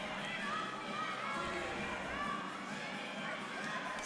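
A Northridge home crowd at a men's college volleyball match between Long Beach State and CSUN roars in a steady, dense wash of cheering and shouting that fills the arena throughout.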